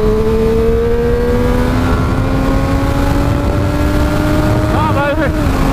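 A sport motorcycle engine, one of a Street Triple RS, MT-09 SP or Brutale 800 RR, drones steadily and loud on a wet road, then revs sharply toward the rev limiter near the end, with a rising, stuttering whine.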